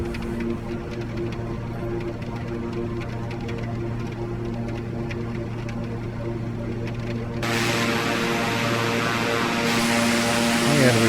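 Beechcraft King Air 350i turboprop in Microsoft Flight Simulator 2020 rolling for takeoff in heavy weather, a loud steady propeller and engine drone with tonal hum that swells brighter and louder partway through as power builds, with a voice speaking over it.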